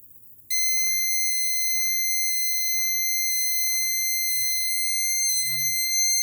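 A gas detector, or explosimeter, sets off a continuous high-pitched electronic alarm tone once the gas level reaches its threshold, holding steady and loud after a quiet start, with faint handling noise underneath.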